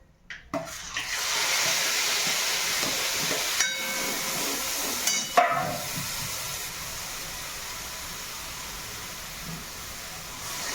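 Lentils dropped into hot tempering oil for a Maharashtrian dal dish with wheat-flour dumplings, giving a steady loud hiss that begins with a sharp burst and holds on, with a few brief clatters partway through, and no talk.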